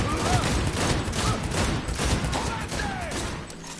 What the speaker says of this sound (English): Pretty strong pistol that I got right here.